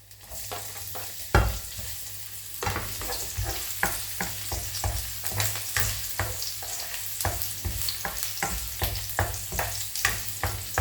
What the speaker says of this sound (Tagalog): Isunod po natin ang luya